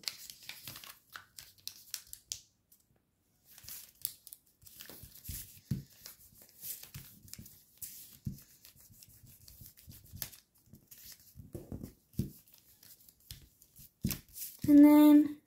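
A paper model is folded by hand during an origami bird tutorial, giving faint, intermittent crinkles, soft rustles and light taps close by, with quiet gaps between.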